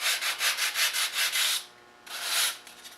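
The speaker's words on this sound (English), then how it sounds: "I have to sand it down" Foam filling for a scratch-built model ship hull is sanded by hand in quick back-and-forth strokes, about eight rhythmic rasping passes, a pause, then one longer stroke and a few lighter scrapes, close and alone.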